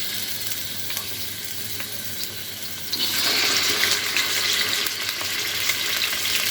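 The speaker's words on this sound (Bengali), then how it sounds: "এখন এর মধ্যে এই যে চিকেনগুলোকে দিয়ে ভেজে নিতে হবে" Chicken pieces frying in mustard oil in a pan, a steady close hiss of sizzling that swells louder midway as more pieces go into the hot oil.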